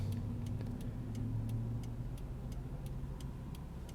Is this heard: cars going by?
yes